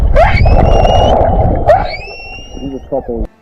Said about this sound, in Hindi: 2 व्हेल्स गाना गाने लगी, और वो भी खुशी में